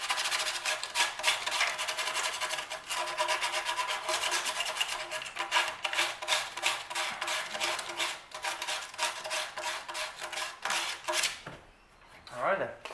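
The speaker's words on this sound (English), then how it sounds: "we'll give this a nice sand" Sandpaper rubs back and forth across a surface on a car's cooling system where a thermostat gasket seats, a fast rhythmic scratchy rasping that runs steadily up close before stopping near the end.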